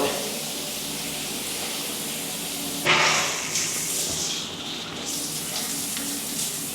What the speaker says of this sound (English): we've got the rainfall and the handheld. That's the rainfall.